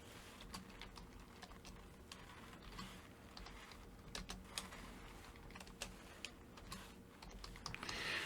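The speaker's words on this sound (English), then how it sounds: "I'm going to type something into the button." Someone types on a computer keyboard while editing a landing page, giving a steady patter of faint key clicks over a low background hum.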